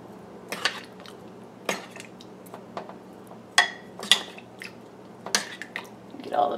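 Spoon stirring seasoning powder into roast beef in a slow cooker, producing scattered clinks and scrapes against the pot at irregular intervals, fairly close and moderate in loudness.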